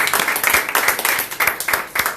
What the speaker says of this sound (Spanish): Dale palmas de alabanza al Señor.